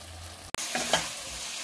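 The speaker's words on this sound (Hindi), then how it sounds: "सब मसाले अभी अच्छे से फ्राई कर लेंगे।" Onion and ginger-garlic paste frying with masala spices, turmeric and salt in a pan, giving a steady close sizzle with a brief stirring clatter and no talk.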